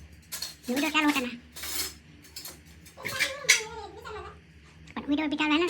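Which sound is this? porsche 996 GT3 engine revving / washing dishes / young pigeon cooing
washing dishes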